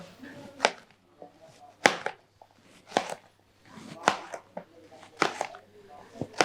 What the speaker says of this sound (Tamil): இதை பொடி பொடியாக அப்படி நறுக்கலாம்